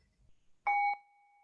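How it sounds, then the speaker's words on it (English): A meditation bell is struck once at the close of an online sangha sitting, giving a clear bright strike that rings on in a long, steady, fading tone amid near silence. "I will hit the bell for that one."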